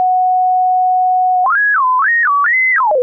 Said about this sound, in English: now we have our sine wave generator that we can turn on and off